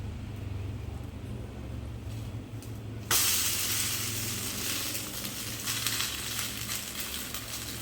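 An oats omelette, just flipped, hisses and sizzles loudly in a hot pan. The frying noise jumps up sharply partway through and then holds as a steady, close crackle with no talking.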